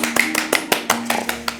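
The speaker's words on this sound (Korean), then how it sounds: "박수 한번." Applause in a TV studio after a finished dish of onion and sprouted-barley salad is presented, a quick series of sharp claps close by, with a low background hum and talk.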